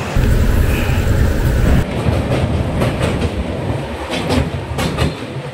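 Ajmer Express passenger train running at night, a loud steady rumble of wheels on rail with rhythmic clickety-clack and rattling carriages, heard from inside the moving train throughout.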